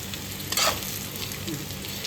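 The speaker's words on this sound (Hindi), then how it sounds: "पलटते पलटते रहिए जिससे ये धीमी आंच में ही, और इसमें चिपकेगा भी नहीं" Taro (arabi) dry sabzi is stirred in a thick kadhai over low heat, giving a soft continuous sizzle with a brief scrape of the spoon partway through.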